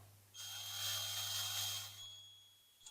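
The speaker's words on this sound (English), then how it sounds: "So here we go with a slightly bigger drill" A slightly bigger drill bit spins up and bores into a Budgie Toys diecast model for about a second and a half, a faint high whine and grinding that fades as it stops, with a low steady hum underneath.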